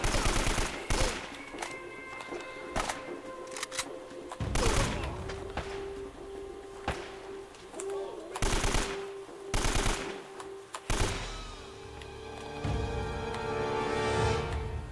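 Gunfire in the video game Uncharted: Drake's Fortune: repeated loud bursts of shots and automatic fire crack out over 15 seconds, separated by short gaps, with game background sound between volleys.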